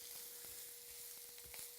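Meat frying in a pan gives a faint, steady sizzle, with light scraping taps as a spatula breaks it into smaller pieces.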